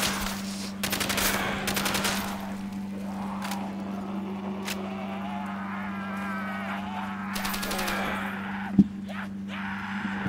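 A Tommy gun firing in Call of Duty: World at War zombies on a custom map, several rapid bursts of automatic fire over a steady game hum, with zombie groans between bursts.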